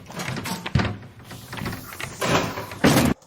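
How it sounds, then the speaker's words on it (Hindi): A door being forced open in a comedy skit: several heavy thumps and rattling bangs come in irregular bursts, with the loudest slam near the end, close and strong against a muffled background. "लगता है दरवाजा तोड़ना पैना है."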